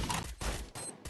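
Gunfire in a competitive Free Fire match sounds as three quick, loud, close shots in a tight sequence, each a sharp burst with brief gaps between.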